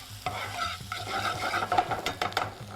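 Grated ginger stirred with a utensil in a hot frying pan, soft scraping strokes and steady sizzle, close and fairly loud, no voices.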